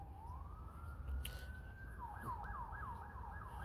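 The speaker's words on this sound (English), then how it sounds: "I can literally hear the sirens right now." Emergency vehicle sirens wail in the distance, a long rising tone giving way to repeated quick yelping sweeps over steady outdoor street noise.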